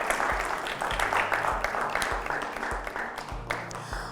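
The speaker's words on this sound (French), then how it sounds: "qu'on va accompagner avec des applaudissements" Applause from a studio audience for the jury members on a television programme, dense sustained clapping with a low hum and faint voices underneath.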